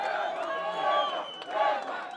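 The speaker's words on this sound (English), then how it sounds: "even the fans are cheering up" Boxing fans in an arena crowd cheering and shouting in rising and falling chant-like waves, loud and close, with voices blending into a continuous roar.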